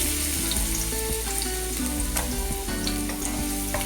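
Chopped garlic sautéing in hot olive oil gives a continuous, close crackling sizzle with small pops and occasional stirring scrapes.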